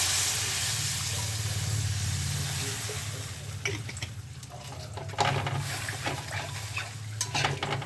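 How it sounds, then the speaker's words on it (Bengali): Water is poured into fried spice paste in a pan for a Bengali fish curry with potatoes and beans: a loud, steady hiss that gradually eases, followed by scattered utensil clinks and stirring against the pan. "মশলাটা কষানো হয়ে গেছে এবার দিয়ে দেবো জল"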